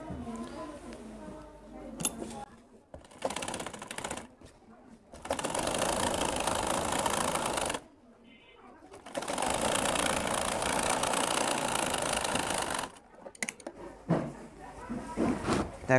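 Sewing machine stitching fabric for a school skirt, its motor running in two long steady bursts of several seconds each, separated by short pauses while someone talks between them.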